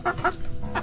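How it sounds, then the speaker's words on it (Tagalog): A chicken clucks nearby in three short, quick bursts, with no talking. "Ito yung alaga natin na isang manok oh"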